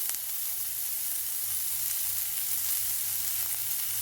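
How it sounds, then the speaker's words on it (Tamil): Steady, close sizzling of onions sautéing in a pan, a continuous bright crackle with no talking. "வெங்காயம் நல்லா வதங்கட்டும்"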